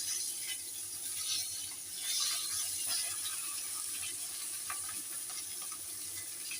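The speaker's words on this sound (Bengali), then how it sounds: "মাছটা এখন ভাজা চলছে।" Rohu fish sizzles in hot oil in a pan, a constant bright crackle and hiss with small pops scattered through it and no voices.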